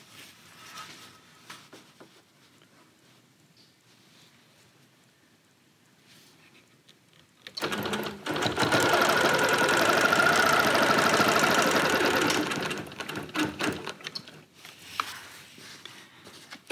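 Bernina Q24 longarm quilting machine stitching during ruler work, a loud steady mechanical whir with rapid needle clatter starting abruptly after a quiet stretch, running for several seconds, then cutting off with faint handling sounds.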